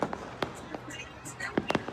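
Firecrackers and sky candle fireworks burst across Old Delhi during an Independence Day celebration, with a series of sharp, irregular pops and bangs, some close and loud, others distant, and voices talking in between.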